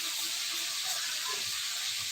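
Steak fries in a pan at home, giving off a loud, continuous sizzling hiss that stays even throughout, with no voices.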